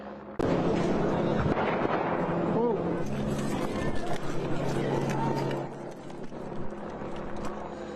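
A street shooting captured in a news recording, with loud, echoing bangs and rough, distorted crackle over a busy outdoor background, the noise thinning out toward the end.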